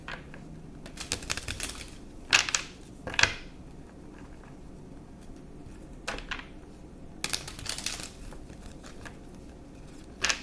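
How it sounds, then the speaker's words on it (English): Tarot cards being shuffled by hand in a quiet room, with several soft riffling bursts and card flicks spaced out over a low background hum. "I'm going to shuffle."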